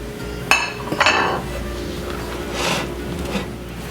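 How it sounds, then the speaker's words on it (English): Flour tipped onto sliced onions in a bowl and stirred, with a couple of sharp clinks of utensil against the bowl, then soft rubbing and scraping as the mixture is tossed, close by. "I'm going to dump all this flour into here on my onions, and we're going to mix it up."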